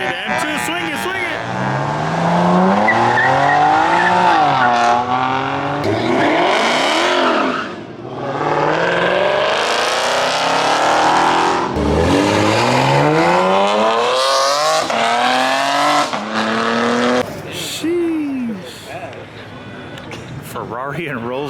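A BMW M2 swings around at a gas-station car meet, its engine revving loudly and sweeping in pitch with tires squealing, while people shout and talk nearby.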